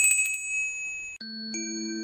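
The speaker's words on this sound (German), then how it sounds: "Ja, das sind die Glocken meiner Großmutter." Small bells ring in a short sequence of clear, sustained metallic tones, a higher chime giving way to a lower, fuller ring, close and fairly soft.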